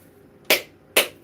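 A whole coconut is struck twice with the back of a kitchen knife, giving two sharp, close cracks about half a second apart with quiet between them.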